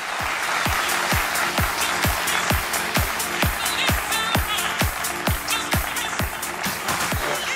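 An audience at the Mascherina d'Argento 56th edition, 2024, breaks into steady rhythmic clapping, a continuous burst of many hands applauding in unison throughout.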